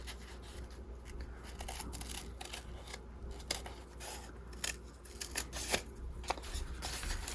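Scissors trim a paper butterfly shape in a craft setting, with repeated soft snips and paper rustles in an irregular rhythm. The sounds are quiet and close, with no talking.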